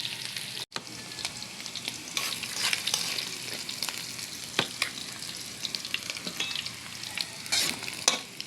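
Guno fish fillet fries in a pan, a constant crackling sizzle with scattered sharp pops and occasional stirring scrapes, close and fairly loud, no voices.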